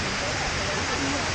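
Shifen Waterfall in Taiwan roars as a dense, steady rush of broadband water noise, loud and close, filling a brief moment.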